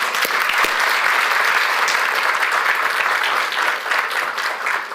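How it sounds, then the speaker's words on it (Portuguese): Applause for the name of Jesus fills a church, a loud, sustained roar of many people clapping together, even and unbroken with no speech. "Podemos aplaudir o nome de Jesus?"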